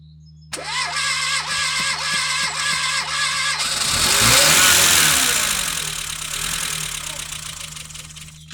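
A Renault 25 car engine cranks and catches after ten years unused, a loud close start with a rhythmic starter whir that swells into a rough, revving idle.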